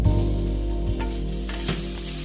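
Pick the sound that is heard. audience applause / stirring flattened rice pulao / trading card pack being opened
stirring flattened rice pulao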